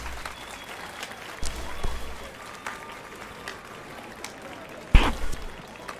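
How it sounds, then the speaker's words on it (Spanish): Applause from a character in a video game after a musical performance in a tavern: a soft scattered clapping over steady game ambience, with a sharper burst near the end. "se paró a aplaudir ahí"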